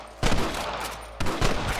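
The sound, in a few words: gunshots in video game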